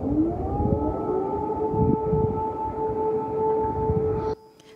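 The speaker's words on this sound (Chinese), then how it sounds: "乌克兰首都基辅在四号凌晨也突然响起了空袭警报。" An air raid warning siren sounding over Kyiv, Ukraine during an overnight alert, a long steady wailing tone with a rising pitch at the start, heard at a distance and cutting off abruptly near the end.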